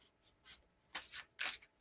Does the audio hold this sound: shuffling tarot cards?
yes